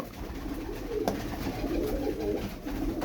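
Bursa tumbler pigeons cooing softly and steadily for a few seconds, low murmuring calls overlapping one another against a faint background hiss.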